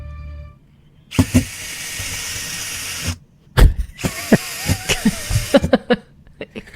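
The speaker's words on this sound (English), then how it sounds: "What is he doing with the drill?" A power drill is run against cardboard boxes on a studio show. It gives loud, choppy bursts of whirring and grinding separated by short pauses, close to the microphone.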